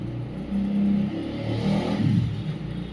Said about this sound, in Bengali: তো মোটর বাইকের জোর আওয়াজ না